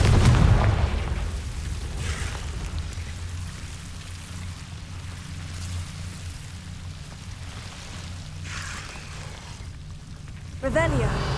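A Confringo blast spell in Hogwarts Legacy goes off with a heavy boom at the start, then a long rumbling, crackling aftermath, and another sharp burst lands near the end.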